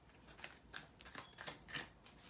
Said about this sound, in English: The deck is kind of hard to shuffle in the way I shuffle